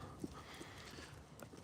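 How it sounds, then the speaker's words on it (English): Horse moving about at a cold winter stable, with soft, faint hoof clops scattered through a low, noisy background. "There's another horse in here, guys."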